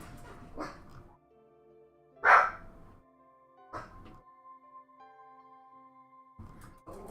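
A dog gives a sudden yelping bark with a brief whimpering edge, one sharp burst standing out from a quiet room with faint background tones and a few soft scattered sounds.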